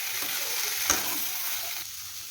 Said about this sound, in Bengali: এখন ভালো করে ভেজে নেব।